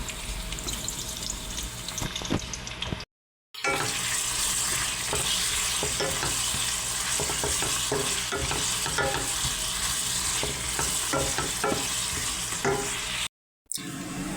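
Onions frying in a pan for Bukhari rice, a loud steady sizzle with scraping spoon strokes throughout, broken by two short silent gaps.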